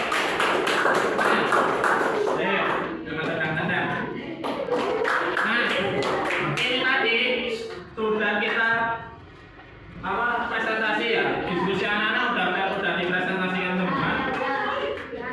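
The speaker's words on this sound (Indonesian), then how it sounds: "Oke, kasih tepuk tangan kelompok 1" A group claps along rhythmically while voices chant and talk loudly over it, close and busy.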